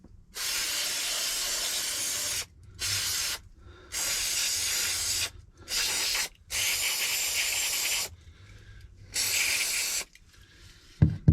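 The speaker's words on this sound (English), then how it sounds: "Give it another spray a minute, just to show you in action." Bursts of bicycle cleaner aerosol spray hissing loudly, several presses of varying length separated by short pauses, close to the listener with no talking.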